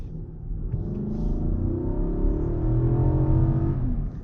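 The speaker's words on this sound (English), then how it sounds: "it's a pretty good engine. It sounds pretty good." Engine of an Infiniti QX80 SUV pulling steadily under acceleration, a continuous low rumble with rising harmonic tones, close and moderately loud throughout with no talk.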